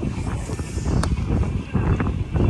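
A sailboat making about 5 knots close-hauled in a 13-knot breeze off Royan, with steady wind buffeting the microphone and low water rush under a constant rumble, alone with no talk.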